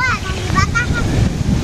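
Wind blows over a river as villagers travel together on a boat, making a strong, buffeting low rumble against the microphone. Faint voices are heard talking through the gusts.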